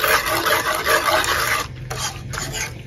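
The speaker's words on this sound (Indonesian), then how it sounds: "Selanjutnya ini diaduk sampai semua bahan-bahan tercampur" A spoon scrapes and swirls through pudding mixture with coffee powder in a pot, a continuous close, rasping stir that eases and softens toward the end.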